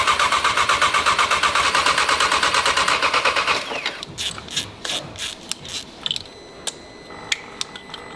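An Audi RS3 engine cranks during a priming procedure, with a loud, rhythmic churning for about three and a half seconds before it stops. Scattered clicks and workshop clatter follow.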